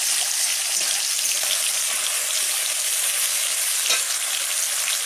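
Potatoes fry for chicken rice in hot oil, giving a steady, close, bright sizzle with crackling pops that holds evenly for a few seconds without talk.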